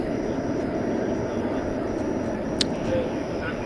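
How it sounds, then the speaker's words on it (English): An American Airlines Airbus A321 arriving at DFW Airport at night from San Francisco, a steady distant engine roar with a brief sharp click partway through. "Another SFO arrival, flight 2387. American Airlines and Airbus A321."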